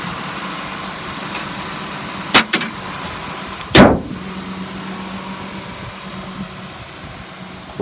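A 2007 Ford Escape 4x4 with a 2.3-liter four-cylinder engine idles in a steady, even drone, broken by a couple of brief sharp clicks near the middle.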